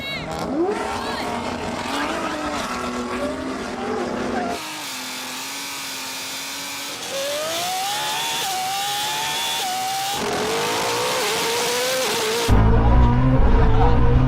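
BMW estate and a Koenigsegg accelerating hard from a standing start, engines revving loudly and rising through the gears in a continuous roar, with a voice talking over parts of the run.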